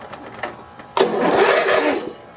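A Snapper rear-engine riding mower has its engine cranked by the starter, giving a sharp click, a brief pause, then a steady, loud grinding churn that keeps going for over a second before easing off.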